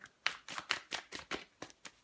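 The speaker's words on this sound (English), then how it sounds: "I'll do 2 shuffles." Tarot cards being shuffled by hand in a quick run of about nine crisp riffling slaps, close and steady, with no talk.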